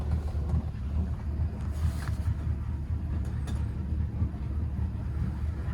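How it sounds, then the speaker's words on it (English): A Mercruiser 5.0L MPI 260HP petrol V8 with Bravo 3 drive idles in a Bayliner 255 boat, a steady low rumble with faint wind noise over it. "And that's the engine running."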